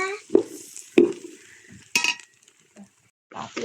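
Spoon stirring a pickle mixture in a pot gives sharp separate clinks and scrapes, a few loud knocks spaced out with quiet gaps between, close by and with no talking.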